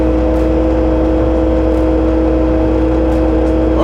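A Bobcat loader with a sweeper attachment, heard as a loud, steady engine drone at high RPM with a constant hum and whir, close and continuous, with no talking.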